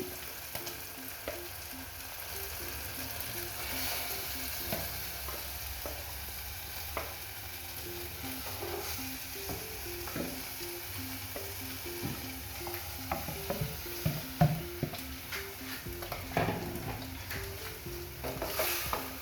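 Vegetables sizzle and fry in a pot while being stirred, a steady crackling hiss with scraping and clinking of the utensil against the pot, moderately quiet and close.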